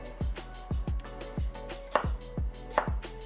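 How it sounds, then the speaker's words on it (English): A knife dicing a jalapeno on a cutting board, with steady, evenly spaced chopping thuds, about two per second, close and clear with no talking. "We're gonna cut this into tiny diced pieces."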